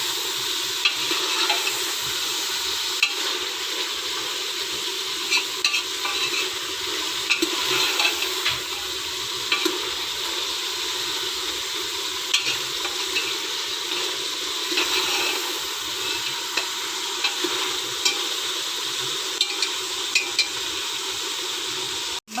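Mutton pieces fry with garlic and onion for an aloo gosht curry, a constant close hiss and sizzle with occasional stirring scrapes and clinks, heard alone without talk.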